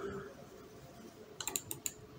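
A handful of crisp computer clicks from a mouse or keyboard, five quick close taps bunched near the end after a quiet stretch with faint room hum.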